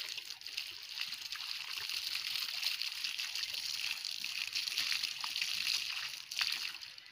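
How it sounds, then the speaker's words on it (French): Water is poured onto a newly planted banana sucker inside a soil ring built to hold it, a steady close trickle and splash that runs without a break and with no voices. "Cette étape passée, nous allons arroser."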